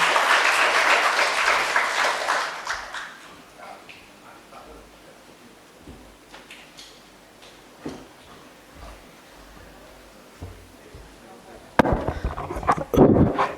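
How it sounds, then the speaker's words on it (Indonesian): An audience of students gives a burst of dense clapping for a speaker from Papua, which quickly fades to a quiet room with a few stray sounds before a short loud flurry of clapping returns at the end. "tepuk tangan teman-teman"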